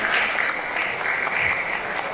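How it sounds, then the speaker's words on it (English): A seated audience at a closing ceremony gives a steady, sustained round of applause, dense and even from start to finish without speech. "may I invite you to give them all a round of applause."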